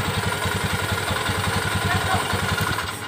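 A Honda Beat FI motorcycle engine with an ignition fault keeps running after the key is turned off, idling steadily at close range with a fast, even clatter and no pauses.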